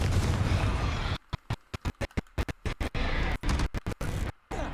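The Confringo fire spell bursts in the Hogwarts Legacy video game as a dense, crackling blast, followed by a stuttering run of sharp pops and cracks separated by brief silences.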